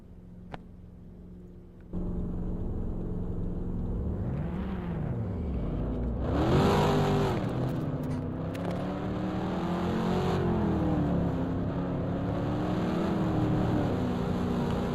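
Race car engine in Lakeside Castle Raceway video game, idling before a sharp rev and acceleration, pitch climbing and sweeping through gear changes over a steady mechanical drone.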